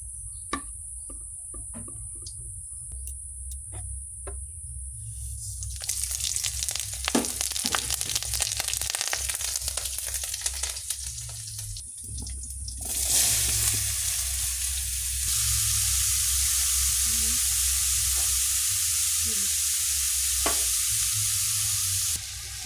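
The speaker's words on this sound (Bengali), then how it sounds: "এই যে চাল কুমড়ো করবো কালো জিরে শুকনো লঙ্কা কাঁচা লঙ্কা ফোড়ন দেব তেল দিয়ে দিলাম" Black cumin seeds, dried red chillies and green chillies spit and sizzle as they temper in hot oil for an ash gourd dish, a steady loud fry that grows harsher in two surges, with no talking.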